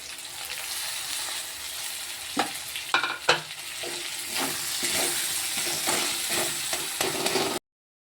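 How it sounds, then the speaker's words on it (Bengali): Spice masala is sautéed in a pan with salt, turmeric and chili powder, ahead of a spinach paste. A steady close sizzle runs throughout, broken by several sharp scrapes and taps of a spoon stirring against the pan, with no talk. "ভালো করে কষে নিই, কীভাবে করছি তোমাদের দেখাচ্ছি। আমার মশলাটা ভালো করে ভাজা হয়ে গেছে।"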